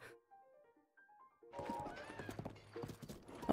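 In Zelda: Breath of the Wild, a horse's hooves clop rhythmically along a road, starting after a short run of soft melodic game tones and continuing densely to the end.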